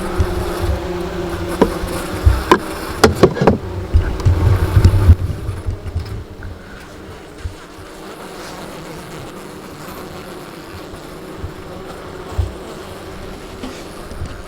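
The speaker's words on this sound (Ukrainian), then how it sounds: "Коли бджілки так гудять взимку" Honeybees hum inside a winter hive, a low steady buzz under a few louder knocks and rustles early on, then a quieter sustained drone with occasional taps.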